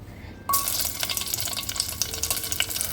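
Mustard seeds, cumin and curry leaves drop into hot coconut oil in a pressure cooker for a poha tempering. A sudden loud sizzle breaks out, then continues as a close crackling hiss with quick spitting pops.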